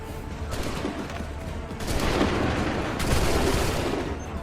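Musket volley fire in the video game Assassin's Creed 3, a dense, loud burst of gunfire that swells into a sustained crackling fusillade, with game voices mixed in.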